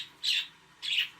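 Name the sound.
pet birds chirping in the background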